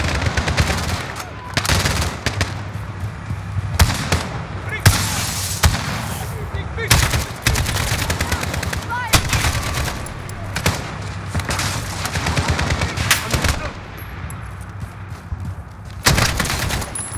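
Sustained automatic gunfire and heavy shots in Modern Warfare 2019 in Urzikstan, loud bursts repeating throughout with booming impacts, mixed with voices calling out.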